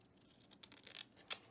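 Scissors trimming paper for a shaker card, a few quick faint snips and crisp paper scrapes, close and quiet.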